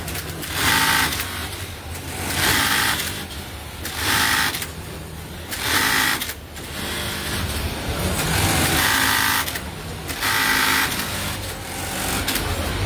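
Bartack sewing machines run on a denim production line, their rapid mechanical stitching coming in repeated bursts of about a second each, separated by short pauses, over a constant factory hum.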